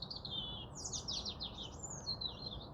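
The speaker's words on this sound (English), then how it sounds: "I think that's a robin." Bright, high-pitched song of two European robins with quick warbling phrases and trills, fairly faint and outdoors in a garden over a steady low background rumble.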